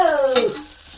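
Curry leaves hit hot oil with a sharp burst of sizzling and spattering that quickly fades, brief and close.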